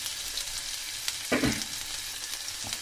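Ginger fries in olive oil in a pan with a steady close hiss, broken by one brief clatter of stirring.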